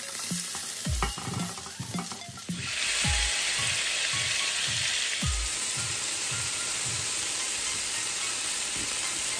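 Seared venison goulash meat sizzles in a large pot, a steady loud frying hiss that swells once the meat goes in, broken by repeated scraping stirs of a utensil against the pot.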